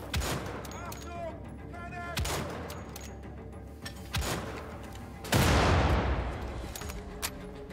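Gunfire in the video game Wolfenstein The Old Blood: several sharp, loud shots a second or so apart, then a heavier blast near the end that trails off, with no talk.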